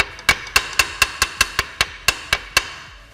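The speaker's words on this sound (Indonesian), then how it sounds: "karena saya nggak punya palu plastik, jadi saya pakai palu besi" An iron hammer pounds a car's lower control arm in about eleven sharp metallic strikes at a steady, quick rhythm, each ringing briefly before the next, close and loud.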